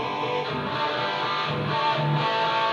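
Distorted electric guitar recorded through a JCM 2000 amp-model insert effect patch on a Zoom R24 recorder, a steady, dense, fuzzy wash of sound with no clear separate notes for about three seconds.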